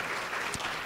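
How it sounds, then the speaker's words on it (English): Brief burst of audience applause at a breakfast forum, a dense wash of clapping heard for under a second. "could we just get a big round of applause for the League"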